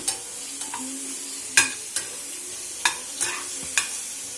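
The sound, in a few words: turmeric and spices sizzling as they fry in oil for rasam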